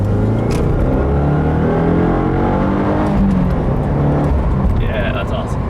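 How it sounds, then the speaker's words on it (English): A 2015 Subaru WRX with Stage 1 tune on Michelin Pilot Super Sport tires, its engine loud and rising steadily under a full-throttle second-gear pull, a continuous near roar with voices talking over it. "It's just so invigorating to hear the engine just scream, and you just get sucked into your seat."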